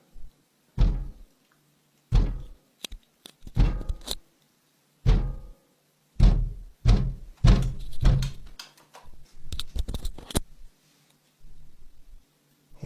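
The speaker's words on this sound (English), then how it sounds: "Continuous banging can be heard on the window with enough force that it causes the panel against it to rattle" Repeated loud bangs on a window glass, irregular and forceful, some in quick clusters, with a rattling panel between hits.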